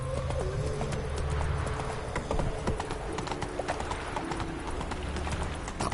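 Roach the horse gallops in The Witcher 3, hooves drumming in a rapid, continuous clip-clop under a busy game soundscape with birds cooing in the background.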